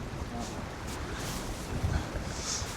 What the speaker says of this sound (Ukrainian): Вітрюган такий дує